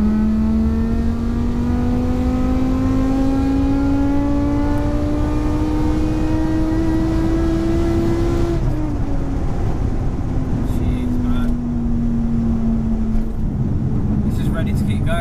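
Supercharged 5.2-litre V10 in a BMW E60 M5 pulling hard while driving, a loud steady engine drone climbing in pitch for about eight seconds before a gear change drops it, then holding on under light conversation.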